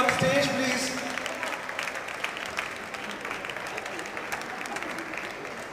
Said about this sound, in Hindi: तो एक बार आप जोरदार तालियां बजाइए मिस्टर विनायक कांबले के लिए